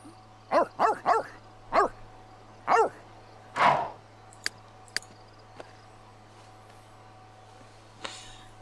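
A puppy in The Sims 3 video game barks in a quick string of five or six close, clear yips, followed by a couple of soft clicks, with no talking.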